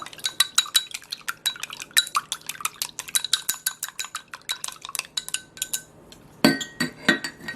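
Quick, bright clinks of a utensil against a bowl as egg, dashi and water are whisked in a steady rhythm, close and fairly loud, ending in a louder scraping clatter.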